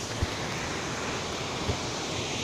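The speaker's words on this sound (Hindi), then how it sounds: "ये वाटरफॉल है" A waterfall in Barot valley, a steady broadband roar of rushing water filling the whole clip, continuous and fairly even, with no voices.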